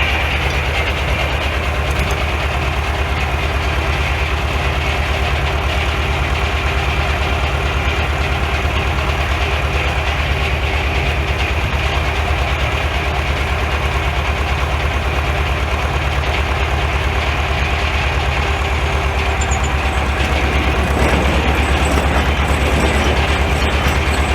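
An antique Corley sawmill carriage rolls along with a steady, loud mechanical rumble and rattle, a continuous drone that holds without pause for the whole stretch.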